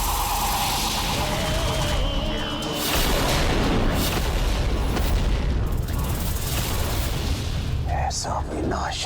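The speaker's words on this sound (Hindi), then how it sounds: "ऐसा विनाशक विस्फोट" An explosion in a TV series: a dense, rumbling blast with heavy low-end roar that sustains for several seconds, loud and close, with crackling debris and mechanical clatter toward the end.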